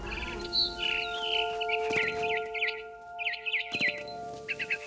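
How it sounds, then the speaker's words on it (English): A barn swallow in the video game What Remains of Edith Finch gives quick, bright chirps and twittering calls in short bursts, fairly close and clear over a faint background hum. "Then I heard chirping outside my window. It was a barn swallow going back to her nest."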